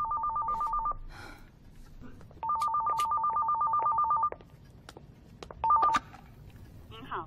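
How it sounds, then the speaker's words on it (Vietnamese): A telephone rings in a 3D animated feature film: an electronic warbling ring comes in three bursts, two long and one short, with quiet pauses between them, close and clear. "Vũ Nhi, nghe điện thoại đi con."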